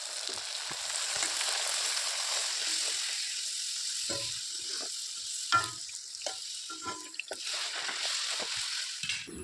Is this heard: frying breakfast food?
yes